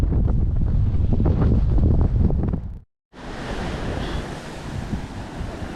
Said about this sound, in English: Picking up a gale now.